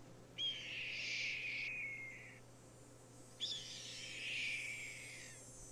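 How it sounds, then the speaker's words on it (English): A red-tailed hawk call played from a tape in a Nancy Drew game: two long, raspy descending screams separated by a pause, loud and harsh over a faint steady hum. "Red-tailed hawk."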